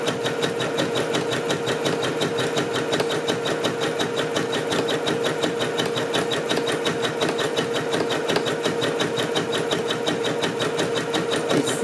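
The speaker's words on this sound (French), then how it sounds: "Et donc vous voyez ma machine, elle coud un point dehors" A sewing machine sews a zigzag stitch on fabric while making a fabric face mask, a steady rapid mechanical chatter that runs without a break and is loud and close, with no voices.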